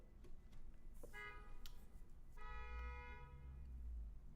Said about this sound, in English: Honking during my YouTube live stream?